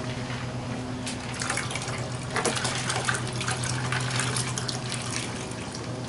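Water pours and splashes steadily into a cooler, a continuous gushing close by, with occasional clinks and rattles of ice.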